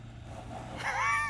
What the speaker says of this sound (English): You're burning out with the front wheel.